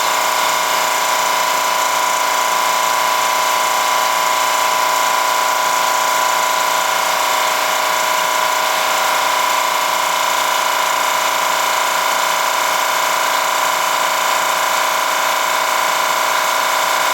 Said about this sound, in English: Yes, my air compressor kicked on. I like how quiet it really is.